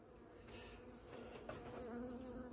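Honeybees buzz around an opened hive frame in an apiary, a steady close drone with a few individual bees whining past nearer for a moment.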